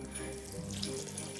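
A cup and a half of water pouring steadily into a blender holding a vegan baked cashew camembert mixture, a close, continuous splashing stream.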